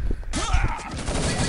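A headshot gunshot in the Urban Terror shooter game during a capture-the-flag league match, a sharp burst of fire with game noise and commentators' voices running underneath.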